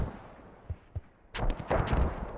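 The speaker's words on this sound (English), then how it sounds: "the mortars, though, hitting that vehicle" Mortar rounds slam into a vehicle during a tactical squad video game match, a cluster of heavy booming impacts and crackling blasts arriving after a couple of softer thuds, loud and close.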